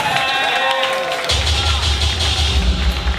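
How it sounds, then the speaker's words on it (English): Audience at a Kiki ballroom event applauding and cheering, a dense continuous roar of crowd noise that swells partway through and stays loud to the end. "Give a round of applause, guys."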